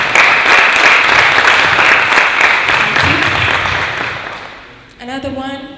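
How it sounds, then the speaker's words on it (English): A loud round of applause from the audience at an international hall ceremony, dense clapping that gradually fades before music and voices take over near the end. "A very big round of applause,"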